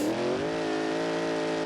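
A damaged car engine starved of oil in the BeamNG Drive video game gives a loud, continuous drone that dips in pitch early on and then holds a strained, even tone.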